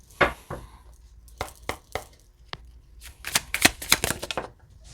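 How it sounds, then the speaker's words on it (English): A tarot card deck is shuffled by hand in a run of crisp riffling bursts and soft slaps, irregular and close, growing denser toward the end with no talk. "let me shuffle again"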